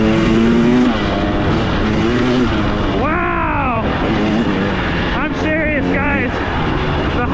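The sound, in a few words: Husqvarna TX300 dirt bike engine revving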